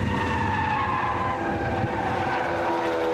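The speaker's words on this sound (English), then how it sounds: "Wheels squealing in protest as they're loaded up through these fast right-hand turns around the back of the lap" Tyres squeal on a first-generation Mazda MX-5 race car loaded through fast right-hand corners at Anglesey circuit, a sustained high screech over steady engine drone, loud and continuous.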